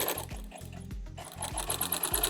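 A home sewing machine stitches a soft Minky blanket with a close, steady mechanical thrum and quick regular needle pulses, slowing briefly mid-seam before picking back up, with no voices.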